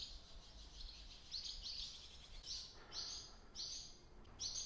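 Birds call inside an abandoned paper mill in Georgetown, giving several short, bright chirps in separate bursts that echo faintly in the empty building. No one speaks.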